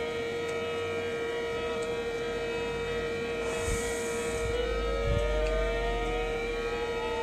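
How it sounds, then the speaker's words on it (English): A police siren in the Sega Genesis game Road Rash II wails at a steady tone, then rises in pitch, over a low engine hum with no talking. "Now there's that siren"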